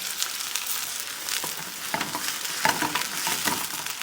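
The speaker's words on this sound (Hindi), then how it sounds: "और अब हम डालेंगे कटा हुआ प्याज।" Chopped onion frying in hot ghee for paneer kababs, a continuous close crackling sizzle with scattered spatter pops and light stirring.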